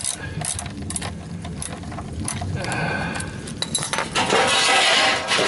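A ratchet works a 14 mm oil pan drain plug loose under a 2014 Toyota Camry SE, with quick metallic clicking and clinks close by against a noisy garage background.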